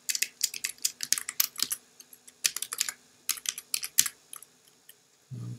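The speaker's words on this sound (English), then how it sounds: "I'm not good at typing on this keyboard" Close, quick typing on a computer keyboard, bursts of crisp key clicks in uneven runs with short pauses between, ending in a brief low thump.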